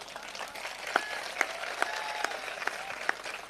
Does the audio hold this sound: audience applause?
yes